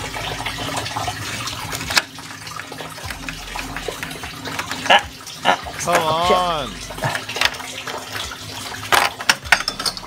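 Coolant draining and splashing from the radiator of a Mazda Friendee during a leak repair, an uneven watery trickle close by, with a person talking and laughing over it and a few clanks.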